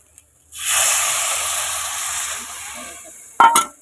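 Water poured into hot, fried-down spiced mutton masala bursts into a loud, steady sizzle and hiss that slowly fades, ending with a couple of sharp clatters near the close.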